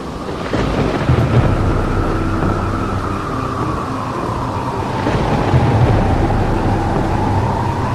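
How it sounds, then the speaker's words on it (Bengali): Cartoon-style thunderstorm effect during a Kalbaishakhi storm: loud rumbling thunder rolling over a constant wash of heavy rain, dense and close, with no speech. "বাইরে তুমুল ঝড় বৃষ্টি হচ্ছে। কালবৈশাখীর ঝড়ের সাথে মুহুর মুহুর বৃষ্টিতে ভেসে যাচ্ছে চারিদিক।"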